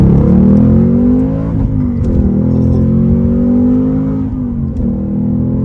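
A 2023 Ford Mustang Mach-1 with a 5-liter V8 accelerates hard in normal mode, its loud, deep engine note climbing steadily through the gears with brief dips at the shifts, heard close and with no talking.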